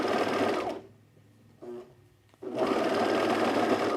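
A sewing machine runs fast and steady while stitching the sleeve underarm and side seams of a knit henley. It starts loud, stops for about two seconds with faint handling noise, then resumes at full speed.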